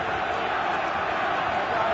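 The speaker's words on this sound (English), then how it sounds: "Crowd are finding their voice." Rugby league stadium crowd at a World Cup match between New Zealand and England, a dense, steady roar of voices rising as New Zealand attack, continuous and loud with no clear single voices standing out.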